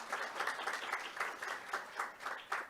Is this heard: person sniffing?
no